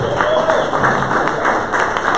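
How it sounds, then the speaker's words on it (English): Audience applause at a sales meeting, a steady wash of clapping from a room of people, fairly loud and continuous, with some voices mixed in. "give him a round of applause for talking"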